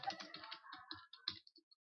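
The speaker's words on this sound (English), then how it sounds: "That's a lot of typing." Rapid clicking of computer keyboard keys, a quick irregular run of taps that thins out toward the end, heard alone at low volume.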